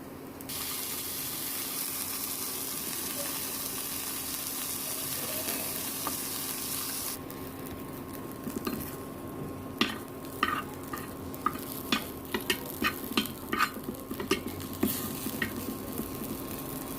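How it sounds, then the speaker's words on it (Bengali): Chapa dry fish frying slowly in a pan over low heat, for a spicy mash with jackfruit seeds: a soft, steady sizzle that thins out partway, then quick scraping clicks from the spatula. "চ্যাপা শুটকিটা কিন্তু চুলার আঁচ একদম কম করে দিয়ে তারপরে আস্তে আস্তে করে ভাজতে হবে"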